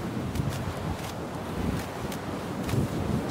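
Wind rushes and buffets in the survival game Sons of the Forest, a continuous gusty whoosh with occasional swelling bursts and no talking.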